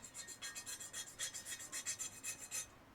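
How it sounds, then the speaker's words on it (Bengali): A knife blade scrapes repeatedly across the back of a bronze (kansa) dinner plate, a quick series of bright, rasping strokes up close and fairly quiet. "আমরা কিন্তু সব সময় কিন্তু ছুরি দিয়ে ঘষি দিই এ দেখেন একটু ঘষি দিই"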